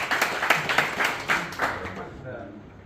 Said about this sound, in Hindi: इनके लिए एक दफा और तालियां बजाएंगे।